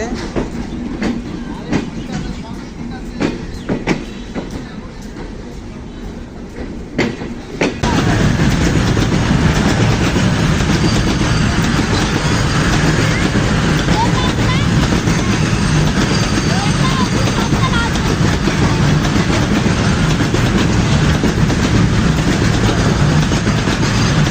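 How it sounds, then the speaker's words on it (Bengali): A freight train pulls out of a station on the India-Bangladesh line, heard from an overbridge; after several seconds of lighter clatter the loud, continuous rumble and clack of passing wagons take over and hold steady to the end. "তবে দেখুন ট্রেন ছেড়ে চলে যাচ্ছে।"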